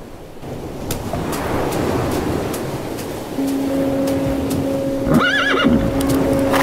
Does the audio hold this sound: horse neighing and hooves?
yes